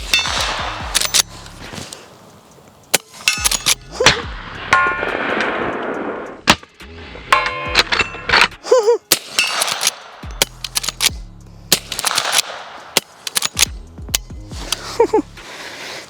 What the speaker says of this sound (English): It's super fun to shoot with the 38